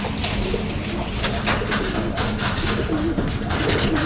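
Domestic pigeons cooing in a home loft, repeated soft throaty coos close by over steady background noise.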